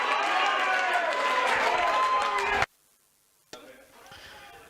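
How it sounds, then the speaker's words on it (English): A snooker shootout crowd at Wigan in 2019 gives George Tierney a round of applause: dense, steady clapping with a voice over it, which stops abruptly, followed by a short silence and then quieter hall noise. "Let's give him a round of applause."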